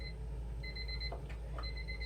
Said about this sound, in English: So there is the timer.